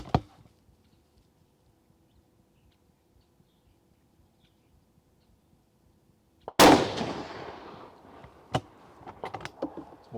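A single loud, close rifle shot from a Remington 700P chambered in .308 Winchester, fired at a range after a long quiet stretch, with echo and faint clicks and handling noises afterward.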